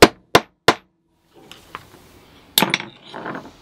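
Hammer striking a snap rivet on a leather knife sheath: three sharp, loud, close blows in quick succession, then quieter handling clinks and a couple of lighter taps.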